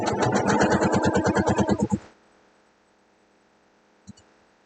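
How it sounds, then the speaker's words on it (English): A home sewing machine stitches a quilt seam at a moderate, steady pace, its rapid regular needle beats loud and close for about two seconds before stopping, followed by near silence and a faint click. "we're just stitching along at a moderate rate of speed, because fast sewing doesn't make good sewing"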